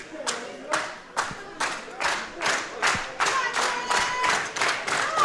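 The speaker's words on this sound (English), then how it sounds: "the Wrestling Magic crowd is trying to cheer her on" A wrestling crowd at a women's championship match claps in a steady rhythm of about a dozen loud, even beats, with faint cheering between the claps.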